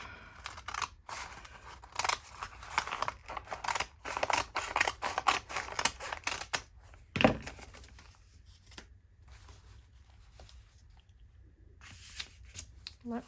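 Scissors cutting through paper-bag paper for a junk journal, a dense run of crisp snips and rustling crinkles up close, then a sharp clack and a quieter stretch with a few more snips at the end.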